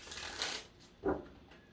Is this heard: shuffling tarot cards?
yes